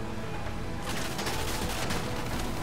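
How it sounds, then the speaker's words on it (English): Enemy gunfire in Grand Theft Auto V erupts after a quieter stretch, a dense, continuous volley of loud shots filling the rest of the moment. "Oh shit, he's shooting at us."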